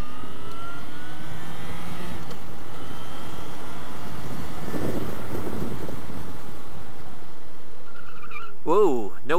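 Car tires skid briefly during a quick turn taken without ABS, with a rising squeal under steady road rumble and wind noise, and a short, loud, warbling tire squeal near the end.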